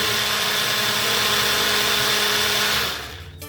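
A blender blending a smoothie whirs loudly and steadily, then winds down and cuts off near the end.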